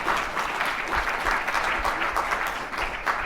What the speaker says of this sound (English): Maybe we can give a round of applause first.